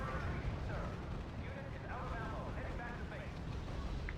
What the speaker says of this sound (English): let's get some of those bombers dropping bombs.